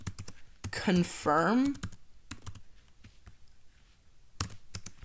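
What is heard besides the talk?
computer keyboard typing the Discord bridge command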